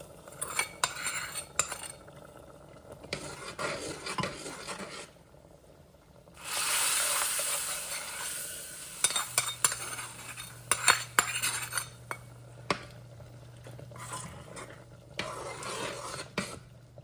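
Roasted tadka with kasuri methi goes into a pot of dal and gets stirred, bringing metal spoon scrapes and clinks against the pot, a brief sizzling burst, and irregular stirring knocks, all close and with no voices.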